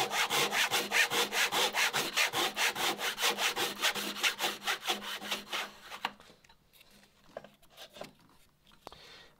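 A hand saw cutting fretboard slots in a wooden banjo fretboard, with rapid, even back-and-forth strokes for about six seconds, then slower, sparse scraping strokes tapering off.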